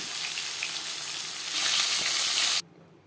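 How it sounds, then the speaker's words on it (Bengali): Bhola fish fries in hot oil in a kadai, a loud, continuous sizzle close up that swells briefly before cutting off near the end. "পরের মাছ একইভাবে ভেজে নেব।"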